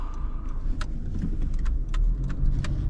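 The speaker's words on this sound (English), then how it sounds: "you're gonna hear some tire noise on certain cars, and that's normal" A used car's tires roll over the road at speed, giving a steady low rumble and road hum heard from inside the cabin, with a few faint rattles and clicks.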